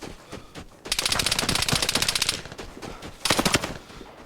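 Full-auto gunfire from a Vigor weapon in a video game rips out in two loud, rapid sustained bursts, the first longer, with a short gap between, up close and without talk.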